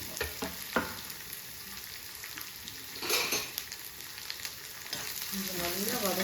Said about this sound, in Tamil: ஆயில் கடுகு ஜீரகம் சேர்த்துருக்கேன்